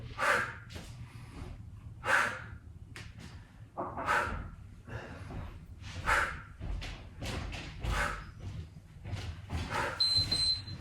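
Heavy, forceful breathing during a yoga HIIT workout comes in close, rhythmic bursts of sharp exhales and gasps, repeating steadily with faint thuds of movement underneath.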